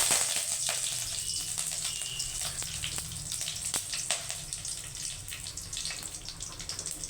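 Mustard seeds and curry leaves spluttering in hot oil for drumstick-leaf sambar, a dense steady crackle with sharp pops scattered throughout. No one speaks.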